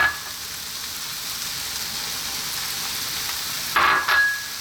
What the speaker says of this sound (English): I'm going to put my broccoli in